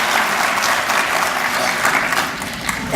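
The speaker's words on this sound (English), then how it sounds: "if we just take 1 second to give them all a round of applause" Audience at a county Teacher of the Year ceremony applauding the honored teachers, a steady, dense wash of many hands clapping throughout, fairly loud with no voices standing out.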